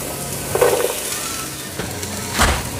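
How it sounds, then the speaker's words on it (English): Soft steady sizzling of onions frying in a pan, with a few light clinks and stirring noises, close up. "Perfect sizzle."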